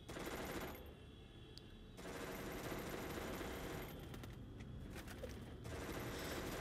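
Rapid automatic gunfire from the battle royale video game Free Fire, loud and nearly continuous bursts with brief lulls, dense and crackling throughout the round.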